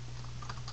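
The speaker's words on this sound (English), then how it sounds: "I can just type test." A few quick keystrokes tap on a computer keyboard over a low steady hum in a short, close burst.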